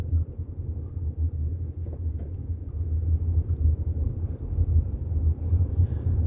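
A car drives around Lynnwood, Washington at sunset, its engine and road noise forming a steady, close low rumble throughout with no voices.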